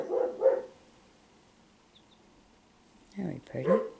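A dog barks a few times, somewhat distant, in two short clusters at the start and end, separated by quiet.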